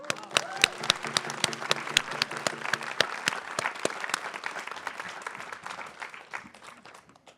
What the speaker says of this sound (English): I just really want to give a great big round of applause